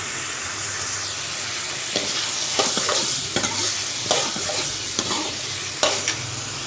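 Ingredients with ginger-garlic sautéing in a pan for a lentil-dumpling curry: a continuous sizzle broken by repeated scraping strokes of a spoon against the pan, close up and with no talk.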